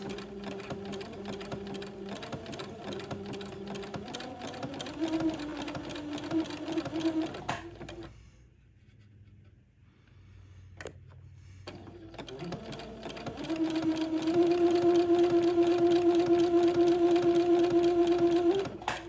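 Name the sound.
sewing machine zigzag-sewing entredot to insertion lace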